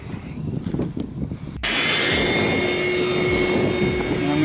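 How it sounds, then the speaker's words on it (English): A shop vac switches on abruptly and roars steadily and loudly up close, preceded by a moment of quieter handling noise. "first what we're going to do is turn on the shop vac"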